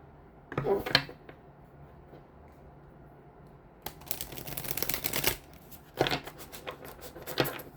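A deck of cards is shuffled in a quiet indoor room, with two short riffling bursts separated by pauses and a softer flutter near the start.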